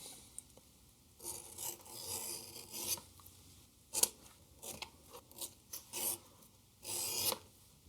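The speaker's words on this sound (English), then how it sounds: "let's go ahead and do that with our edge beveler." Leather strap edges being shaved with an edge beveler, giving several short, close scraping cuts in uneven bursts with quiet pauses between them, no voices.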